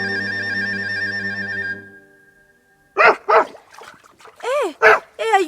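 A dog barking several times in short bursts, close and loud, after a ringing tone fades out, with a voice speaking between the barks.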